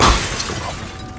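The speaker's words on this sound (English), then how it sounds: "We smashed enough TVs in here." TVs smashed in the Xbox game The Warriors, a sharp glass-shattering crash up front followed by tinkling debris that fades quickly, fairly loud and with no talking.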